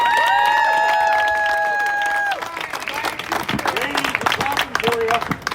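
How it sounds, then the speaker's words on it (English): An audience at a political gathering applauds, with clapping and some cheering that builds after a loud sustained tone and carries on under scattered voices. "Please give them a good round of applause."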